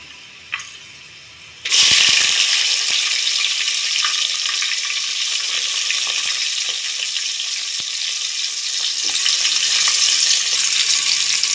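Green chillies and onion dropped into hot oil with mustard seeds and chana dal, a sudden loud sizzle that stays steady and close, with faint pops and stirring scrapes.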